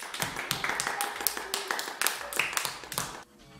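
Young children in a three-year-old infant class applauding, scattered uneven claps from a small group, close and fairly loud, tapering off at the end.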